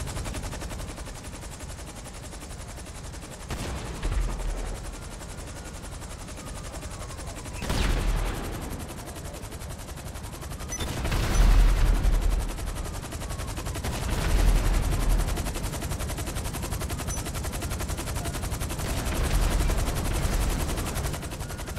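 Video game gunfire in an online shooter, bursts of automatic fire and scattered single shots rolling on through a steady noisy background, with a few louder blasts standing out, no talk over it.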